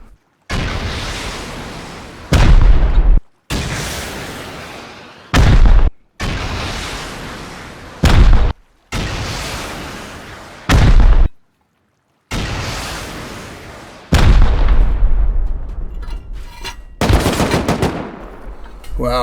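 Rocket launches and impacts from a raid on a base in the video game Rust, on a heavily modded server. Around nine loud bursts follow one another at a steady pace, each a sharp blast with a rumbling tail, and a short gap separates each one.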